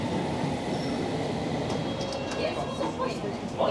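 A London Underground train heading toward Earl's Court gives a steady, loud rumble of wheels on rails throughout, with faint squeals and clatter rising near the end.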